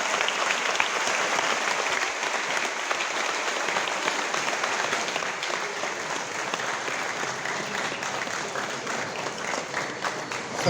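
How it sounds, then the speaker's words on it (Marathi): A large gathering at Godavari Dham, Saralapeth, welcomes visiting saints with sustained loud applause, dense clapping from many hands that continues steadily and eases slightly toward the end. "जोरदार टाळ्या वाजवा"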